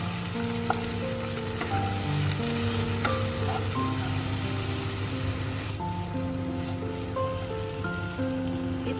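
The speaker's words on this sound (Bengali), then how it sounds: "এবার এটাকে ভালো করে কষিয়ে নিতে হবে" Spice masala for vegetarian dhokar dalna sautés in a pan, giving a constant, close sizzle with occasional stirring, while tuneful background music plays throughout.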